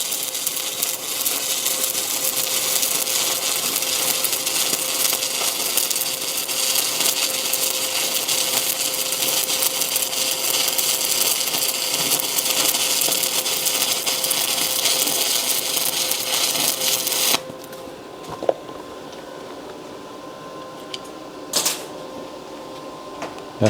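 Stick arc welding with 7018 electrodes, vertical-up: a loud, steady frying crackle and hiss runs for about seventeen seconds, then cuts off, leaving a quiet room with a couple of brief clicks.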